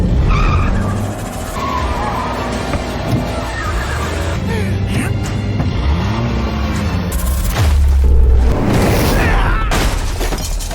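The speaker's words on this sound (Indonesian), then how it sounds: "Jock menjalankan taksi itu sambil membawa Swiling. Namun sialnya ia dikejar oleh Jabal dan terjadilah aksi kejar-kejaran" A taxi is chased in an action-film car pursuit, with loud tyre skids and squeals, revving engines and a crash-like burst near the end, all dense and close throughout.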